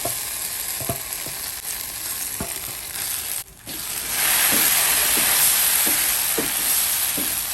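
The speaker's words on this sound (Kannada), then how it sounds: "ಮಸಾಲೆನ ಒಳ್ಳೆ ರೀತಿಯಲ್ಲಿ ರೋಸ್ಟ್ ಮಾಡೋಣ." Masala roasting for a Mangalore-style bangda mackerel fry sizzles and crackles steadily in a pan, growing louder and denser partway through, with occasional stirring scrapes and no talk.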